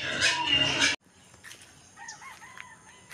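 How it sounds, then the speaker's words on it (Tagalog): Chickens and a rooster on a small farm call out in short, rising crows and clucks, moderately near, after a brief burst of loud broadband noise at the start. "Yung mga manok nag-iintay na."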